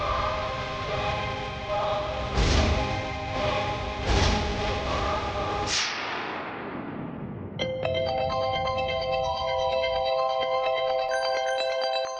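A phone ringtone sounds for an incoming call in a Tamil TV serial scene, entering as a steady electronic melody that plays alone after a dramatic music sting fades.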